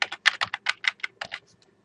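Keys on a computer keyboard are struck in a quick, even burst of about a dozen close, crisp clicks as a worksheet name is typed into a spreadsheet, trailing off into quiet.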